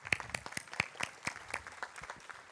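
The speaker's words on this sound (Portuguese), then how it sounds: "uma salva de palmas para quem ficou de pé, por favor." Audience in a sales lecture hall applauding, a brief, fairly faint patter of scattered claps.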